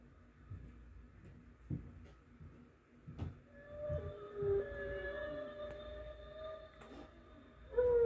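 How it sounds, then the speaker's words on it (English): Whale vocalization in an undersea adventure game, a faint, long rising and falling moan with drawn-out tonal calls over a low ambient backdrop. "Oh, it's a whale."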